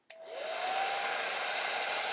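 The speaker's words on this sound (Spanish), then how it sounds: "enciendo mi secador de pelo y empiezo a mover el agua superficial" Hair dryer switched on and blowing over surface water, a sudden onset into a steady, loud, broad whooshing roar with a faint rising motor whine, alone without talk.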